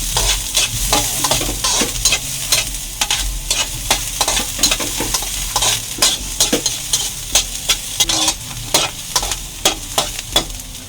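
Chopped onion sizzles in a hot oiled pan while a utensil stirs it, steady loud frying hiss broken by regular scraping strokes that quicken toward the end, close up with no talk.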